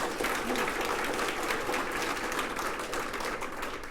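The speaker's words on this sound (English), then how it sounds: "So give her another big round of applause" A crowd claps continuously, a dense sustained applause that stays loud and fades only slightly toward the end.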